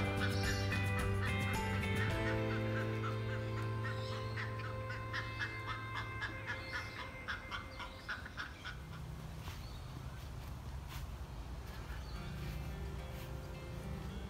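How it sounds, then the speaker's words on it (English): Birds call and honk repeatedly at a lagoon, duck- or goose-like squawks overlapping in a busy outdoor chorus, moderately close. "There's another kind of bird I can hear,"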